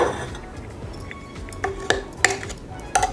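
A spoon stirs chana masala in a metal pot, scraping steadily with several sharp clinks against the rim and a faint simmer underneath, and no one speaks.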